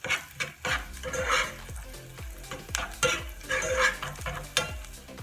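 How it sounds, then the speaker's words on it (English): A spoon scrapes and stirs onions cooking in a hot pan on medium to high heat, with repeated rhythmic strokes over a steady sizzle. The sound is close, and nobody speaks. "on medium to high heat, stir it"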